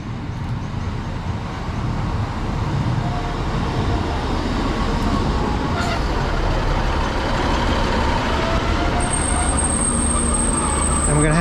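A Northern class 156 diesel unit, 156416, rolls into a platform on the East Lancashire Line with a steady engine and wheel rumble and a brief high squeal near the end, while a voice talks quietly under it.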